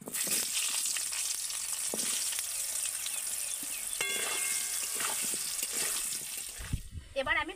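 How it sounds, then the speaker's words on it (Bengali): Potato pieces fry in hot oil left over from frying koi fish, giving a steady, loud sizzling hiss that continues for several seconds before briefly giving way to other kitchen sounds near the end. "এবার ওই একই তেলের মধ্যে আমি আলুগুলোকে ভেজে নেব।"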